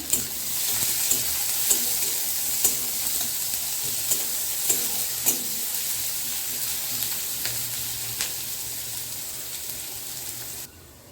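Chopped onion frying in oil after a tempering of spices, a steady close sizzle with regular sharp taps of a spatula stirring the pan, fading gently toward the end, no speech.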